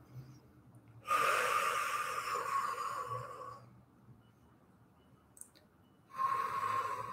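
Long, audible exhale through the mouth while lowering into a hip stretch, near and fairly soft, followed by a pause and the start of another breath out.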